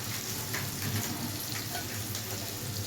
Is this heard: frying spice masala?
yes